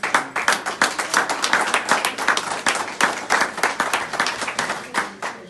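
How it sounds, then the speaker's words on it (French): Hearty audience applause at a Congolese community election gathering in Windsor, a steady stream of many hands clapping with rhythmic surges, fairly close and continuous throughout. "J'aimerais encore une fois de plus que vous applaudissiez la commission électorale."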